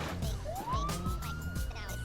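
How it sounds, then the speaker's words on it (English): A police siren in the driving game BeamNG.drive rises and wails steadily over a background of engine rumble and game sounds, moderately loud and continuous. "He pulls the sirens and then he drives away."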